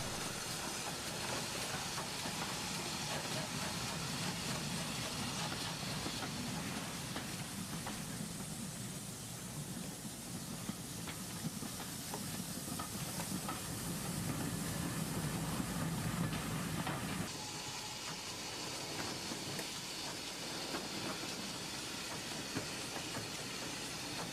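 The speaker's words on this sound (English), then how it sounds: "returns, this time with a train of 5 six-wheeled coaches, including a full brake at the front" A steam train of five six-wheeled coaches, with a full brake at the front, passes steadily with a continuous hissing, rumbling roar and rhythmic clatter of coaches over rails, fairly loud throughout.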